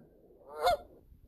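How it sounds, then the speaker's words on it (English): A single short goose honk rises out of a quiet background, brief and moderately loud. "Goose."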